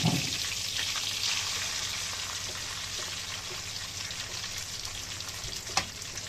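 Alexandrian-style liver fries in a pan with vinegar, a steady close sizzle and bubbling hiss running throughout with a small clatter near the end and no voices.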